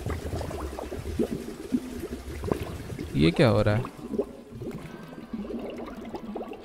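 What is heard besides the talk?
toilet flush sound in the video game I Am Fish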